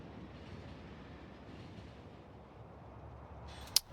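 A train rolling along its track in the video game Factorio, a steady low rumbling drone held for several seconds, then a sharp short click near the end.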